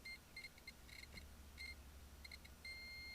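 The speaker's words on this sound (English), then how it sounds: "You can hear it beeping." Short, high electronic beeps from a tester on a BMW 4.4L M62TU engine come in irregular bursts, some doubled, ending in one sustained tone, faint over a low hum.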